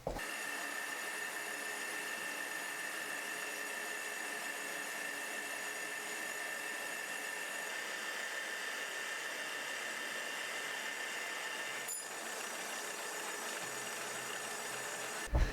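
A manual milling machine cuts stainless steel sheet in one pass with a 4 mm carbide end mill, giving a steady, even mechanical whine and hum throughout with a brief click near the end and no voices.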